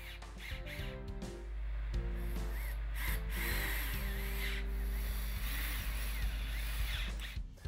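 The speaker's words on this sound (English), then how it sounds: "install pocket hole screws into each of the 8 holes you drilled" A power drill drives pocket hole screws into a southern pine picnic table end assembly, whining up in several close, loud bursts that rise in pitch and then settle into a longer, steady grinding run.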